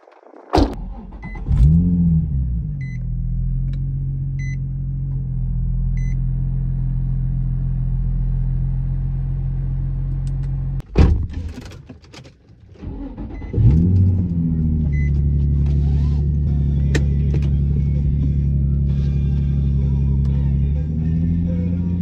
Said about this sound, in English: The beauty is the car starts up right away